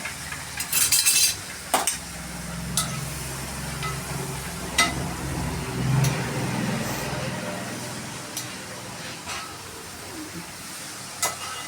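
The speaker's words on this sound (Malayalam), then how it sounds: "നല്ലോണം ഇളക്കി മിക്സ് ചെയ്തെടുക്കാം" Long beans in oil for an Alappuzha-style mezhukkupuratti are stirred in a pan, with scraping spoon strokes, occasional metallic clinks and a low sizzle under someone talking.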